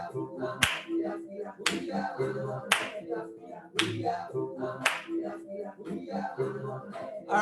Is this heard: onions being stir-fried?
no